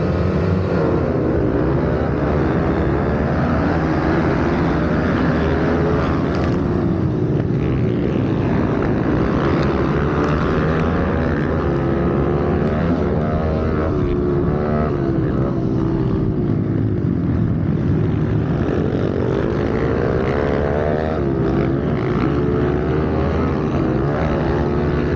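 A pit bike engine drones continuously during a round of the 2024 Italian Pit Bike Championship, a loud, close buzzing motor whose pitch rises and falls with throttle changes through the whole stretch, with wind noise mixed in.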